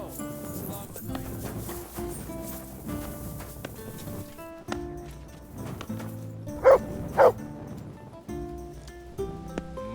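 In Kingdom Come Deliverance II, a dog gives two short, sharp barks midway through, set against a medieval music score and ambient game sounds.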